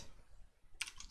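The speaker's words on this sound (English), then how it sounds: "I'm going to type in cast" A short burst of computer keyboard typing, a couple of quick clicks near the end of a quiet stretch, close and fairly soft.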